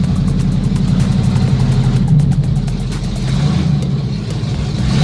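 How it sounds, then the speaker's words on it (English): A car engine drones loud and steady, idling and revving slightly as the car rolls over a curb, with a constant rumble and no clear separate bump. "He went over the curb like it's nothing."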